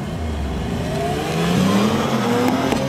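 An Opel Insignia OPC driving on the road, its engine a steady loud drone that rises in pitch as the car accelerates, heard close and without any talk.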